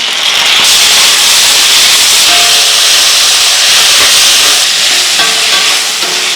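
Loud, continuous sizzling hiss of tomatoes sautéing in a hot pan, steady throughout with small crackles and clinks.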